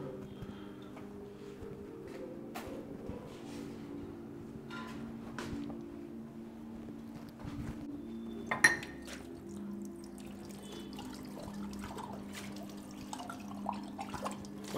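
Dishes are washed by hand with water in a home kitchen: soft trickling and dripping with occasional utensil clinks, faint and close, over a steady low hum.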